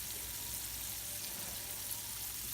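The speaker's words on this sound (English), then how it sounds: "we're going to put them in some vegetable oil and we're going to fry it medium-low for about 35 minutes" Chicken wings deep fry in vegetable oil over medium-low heat, producing a steady, even sizzle and crackle throughout at a moderate level with no talking.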